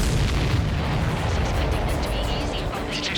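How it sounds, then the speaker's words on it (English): An enemy supply ship blows up in the Ace Combat 7 combat flight game, a deep rumbling boom that rolls on under continuous low roar and crackle, loud and close. "Did you see that explosion?"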